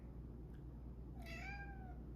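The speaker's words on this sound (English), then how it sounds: "Yeah, that's my cat." A pet cat gives a single drawn-out meow that rises and then slides down, close by and clear over a steady low room hum.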